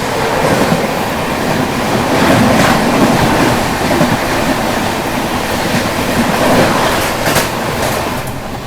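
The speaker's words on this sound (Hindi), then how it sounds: "सामने से आती हुई Puri Jodhpur super fast express आती हुई, पुरी जोधपुर सुपर फास्ट।" The Puri Jodhpur Superfast Express rushes past in a loud, sustained roar of wheels and rolling cars, steady throughout with a faint rhythmic clatter and no voices.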